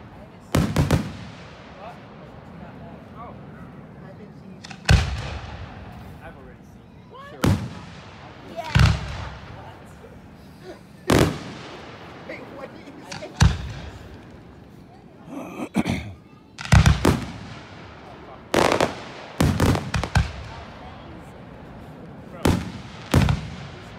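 Fireworks launching and bursting at the 2024 Pickle Festival show in Saint Joe, Indiana: a long irregular series of loud booming cracks, some single and some in quick clusters, echoing outdoors over a low crowd murmur.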